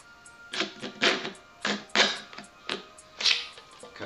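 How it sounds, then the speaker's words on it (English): A knife cuts a sheet out of an aluminum can, giving about seven sharp, crackly scraping strokes in an uneven rhythm, close and fairly quiet with no voices. "I can take a knife here."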